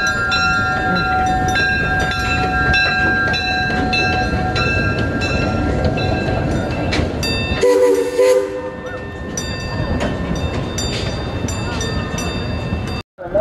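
The Gemini roller coaster train at Cedar Point rumbles steadily along its track, loud and close with a continuous roar and tonal mechanical whine, dipping briefly mid-clip before the rush resumes until an abrupt cutoff.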